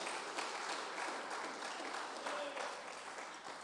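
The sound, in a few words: church congregation applauding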